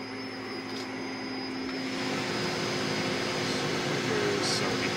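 The spindle of a Tree Journeyman 325 CNC milling machine turns forward at 60 RPM, a steady motor hum and whine with faint tonal lines, growing slightly louder as it runs.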